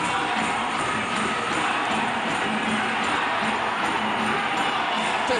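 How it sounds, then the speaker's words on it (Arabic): Thai fans cheer without pause inside an indoor hall at an AFC Futsal Championship final, a dense, steady roar of crowd noise that stays loud from start to finish. "تشجيع مستمر من جانب"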